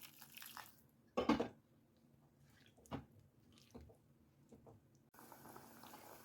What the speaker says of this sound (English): Add in some hot water.